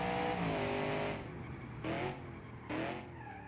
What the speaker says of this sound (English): there I wanted to drift, but it didn't really let go enough